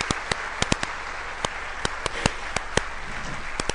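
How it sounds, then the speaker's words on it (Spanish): Scattered, sharp hand claps from a church congregation at a Sunday service, at an uneven pace, a dozen or so crisp slaps ringing out in a quiet room rather than a full roar of applause. "le damos un fuerte aplauso al Señor"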